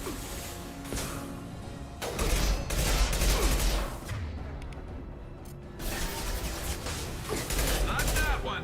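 Sustained sci-fi gunfire from the video game Mass Effect 2, bursts of shots and booms overlapping in a loud continuous firefight, with brief voices mixed into the battle.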